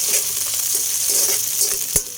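Onion and tomato sautéing in a pan for monggo, a steady loud sizzle with light stirring and a sharp clink of a utensil near the end.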